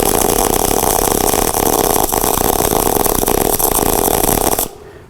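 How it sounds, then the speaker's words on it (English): Steady, loud MIG welding crackle and buzz runs continuously at close range for several seconds, then cuts off abruptly into quiet near the end. "Let's weld it."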